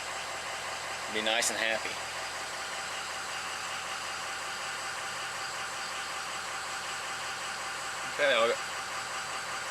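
A truck diesel engine idles steadily after a high-pressure pump repair, a smooth continuous low drone throughout, with someone talking briefly over it twice.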